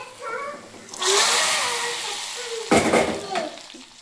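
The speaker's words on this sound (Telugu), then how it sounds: "సో పాలకూర పప్పు ఇప్పుడు మనం తాలింపు పెట్టిద్దాం." Spices for tempering spinach dal hit hot oil in a pan, bursting into a loud sizzle that tapers, then flares again in a second burst as more goes in, with faint sound beforehand.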